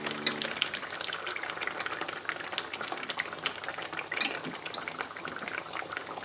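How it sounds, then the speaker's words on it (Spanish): Chicken pieces go into a pot to stew, giving continuous close clatter and scraping of food and utensils against the pot over a steady sizzling, bubbling background, with no talk. "Vamos a meter aquí todo el pollo"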